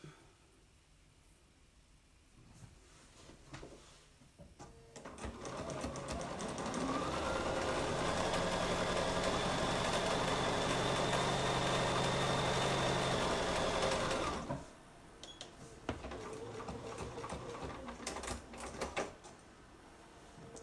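A sewing machine stitches the front and back side seams of a romper in one steady, close run of about ten seconds, with quieter handling noises before and after.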